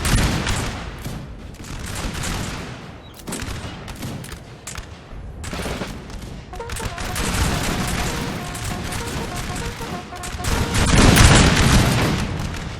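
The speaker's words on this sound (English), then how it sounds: "here you go, firefight begins" A musket firefight in Napoleon: Total War, with dense ragged volleys of massed gunfire and booming shots that build into loud swelling waves, with no speech.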